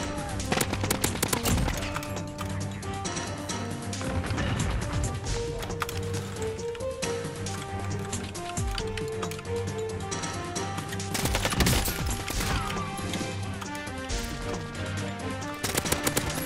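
AN-94 rifle gunfire in the video game Warzone, with dense repeated shots and bursts heard close and loud over a busy mix of game effects throughout.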